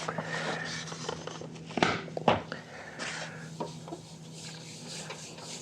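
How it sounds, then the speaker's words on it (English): A Harley-Davidson Dyna Super fender with a paint problem being polished by hand: soft, irregular rubbing and cloth-on-metal swishes, close and fairly quiet, with a few sharper scuffs and a low steady hum beneath. "I might have to hand polish the center here because I don't know how else to get in there safely."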